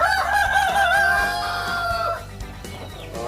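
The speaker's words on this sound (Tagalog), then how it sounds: "may mga sisiw ako dito" A rooster crows loudly and close on a backyard free-range chicken farm, the long call trailing off, with clucking hens around it.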